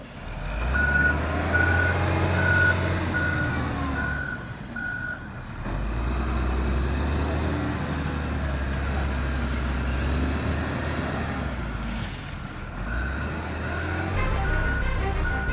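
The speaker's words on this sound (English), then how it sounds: "What comes out is loaded into tip trucks. Here they are called ore carriers" Ore-carrier tip trucks working at a gold mine, their reversing beepers sounding in a steady repeated pulse over the continuous low rumble of heavy diesel engines, close by and loud, with no talk.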